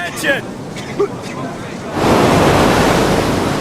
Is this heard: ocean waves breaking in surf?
yes